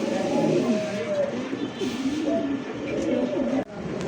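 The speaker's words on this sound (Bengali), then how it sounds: "এটা হচ্ছে সিলভার, খুব সুন্দর একটা কবুতর।" Silver pigeons coo in a low, continuous burbling murmur, fairly close and steady throughout, with a person talking over them.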